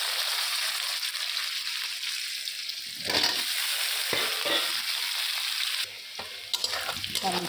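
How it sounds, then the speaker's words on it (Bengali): Sliced onions dropped into hot oil in a pan while preparing a lightly spiced tilapia fish curry, a steady bright sizzle with occasional scraping and stirring clatter, close and continuous. "তেল গরম হয়ে গেছে। তেলাপিয়া মাছ করবো, হালকা ঝাল ঝাল করে। পেঁয়াজটা দিয়ে দিলাম।"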